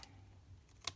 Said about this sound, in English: I'm just going to cut these bottoms off to make it straight across.